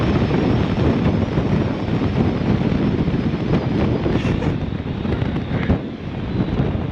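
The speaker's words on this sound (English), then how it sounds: "It is extremely windy on the top." Strong wind roars and buffets the microphone continuously on a hilltop lookout in Pécs, Hungary, a loud, dense rumble with gusty fluctuations throughout.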